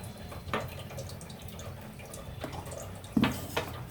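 Homemade mango juice blended with milk pours into a glass in a few short splashing bursts, close by and moderately loud, with no one speaking.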